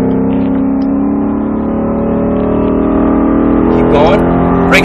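A Mustang Shelby GT engine pulls hard on a racetrack at Speed Vegas, a loud sustained drone with rising pitch as it accelerates, an instructor talking over it.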